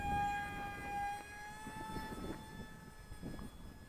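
A small brushless motor on an ESKY Mini EYAS II model airplane, 750mm wingspan, whines at a high, steady pitch that drifts slightly as it passes overhead, with wind noise underneath.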